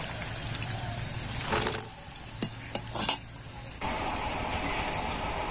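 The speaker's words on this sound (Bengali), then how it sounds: "এবার একে একে আমি পিঠাগুলোকে" Nakshi pitha fry in hot oil in a wok with a steady sizzle, broken by a few sharp clinks and scrapes of a utensil against the pan.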